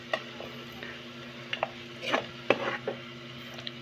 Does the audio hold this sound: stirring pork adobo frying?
yes